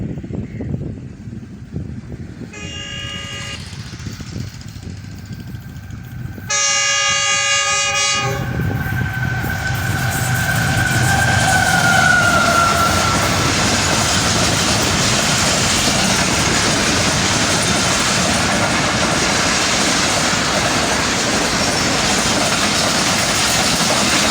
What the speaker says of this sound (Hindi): और ये कराची एक्सप्रेस है जो थ्रू पास कर रही है।